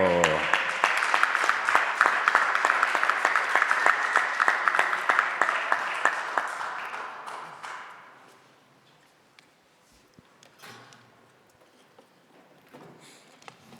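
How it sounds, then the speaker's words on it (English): Audience at a bartender competition applauding for Aliche Muso, loud, dense clapping for about seven seconds that then thins and fades to scattered claps and quiet. "Warm round of applause, please, for Ms. Aliche Muso."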